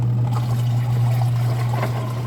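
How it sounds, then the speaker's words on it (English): Water runs steadily over a shirt being washed, a continuous trickling splash over a constant low hum of background noise. "this is the control just being washed with water"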